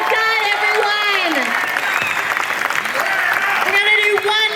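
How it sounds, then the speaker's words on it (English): A protest crowd applauding in a dense, sustained burst of clapping and cheering, with shouts and voices rising above it throughout. "Round of applause."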